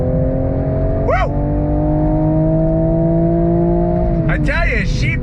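A 2023 Toyota GR Supra with a manual gearbox holds a loud, steady high-rpm engine drone toward its 7,000 RPM redline, heard from inside the car, with brief excited shouts from the occupants near the start and end.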